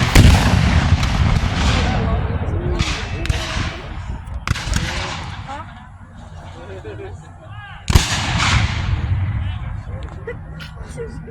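Cannon fire at a Civil War battle reenactment, with several heavy booming artillery shots and rolling echoes at intervals, loud and outdoors, with people talking over the firing.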